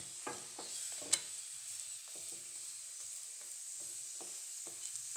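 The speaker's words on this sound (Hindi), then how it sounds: "परोठे को ऐसे दबा दबा के सेक लेंगे" Cabbage paratha is pressed down and roasted on a pan over medium-high flame, giving a soft steady sizzle broken by intermittent scraping and pressing taps, one sharper knock early on.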